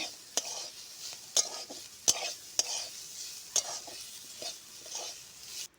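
Soft sizzling of potatoes and gima greens frying in a pan, with sharp spatula scrapes and clicks against the pan at irregular intervals.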